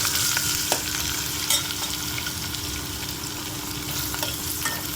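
Onion, green chilli and curry leaves frying in a pan for upma, a steady close sizzle with faint stirring scrapes and a few sharp clicks, no voices.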